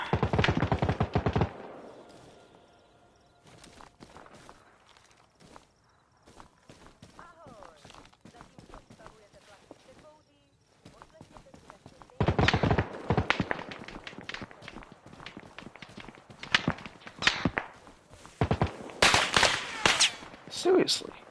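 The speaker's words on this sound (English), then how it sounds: "Looks like we're getting shot at." Scattered gunfire in an outdoor setting with people taking fire, sharp cracks in irregular bursts, some dense rapid volleys, mixed with shuffling movement and talk.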